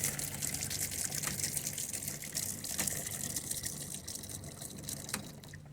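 Water pours steadily into the livewell of a 2019 Bass Buggy 16 ft boat, a continuous near rushing gush with a constant level and no talking over it.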